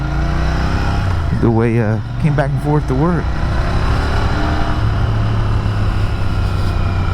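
A Royal Enfield GT650 motorcycle engine drones steadily while riding on a road, a continuous loud rumble with a rider talking over it partway through.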